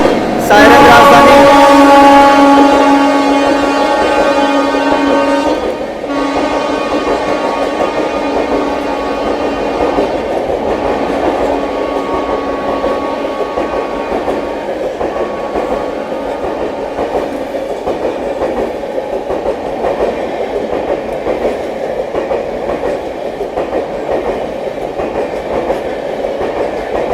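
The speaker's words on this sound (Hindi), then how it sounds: "Sairang Anand Vihar terminal, Sairang Rajdhani express" Sairang–Anand Vihar Rajdhani Express passing on an overtake, a loud continuous rumble of train cars with tonal horn-like bands at the start, sustained steadily near and close for the whole stretch.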